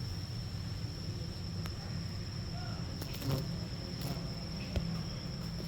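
Insects chirp and buzz steadily outdoors close to the camera, a constant high trill over a soft wash of background noise, with a few faint clicks and no clear talking.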